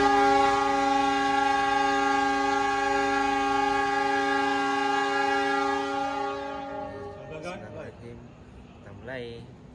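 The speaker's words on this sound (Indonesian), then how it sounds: "2 menit atau 3 menit lagi kereta api Harina akan diberangkatkan" Long, steady horn of the Harina passenger train sounds loudly as it prepares to depart from the station, then fades, followed by people talking nearby.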